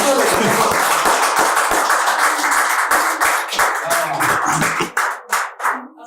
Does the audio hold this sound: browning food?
no